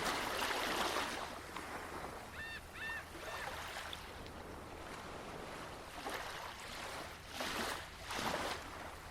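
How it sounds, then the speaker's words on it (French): Waves washing onto a calm beach, a faint steady surf hiss that swells and recedes, with a few distant bird honks early on. "délicieusement bercée par le rythme des vagues"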